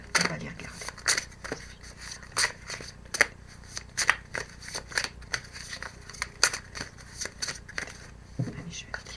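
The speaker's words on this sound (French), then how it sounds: "je vais tirer les cartes" Tarot cards riffled and drawn from the deck, a run of crisp papery snaps and flicks repeating at close range through the whole stretch.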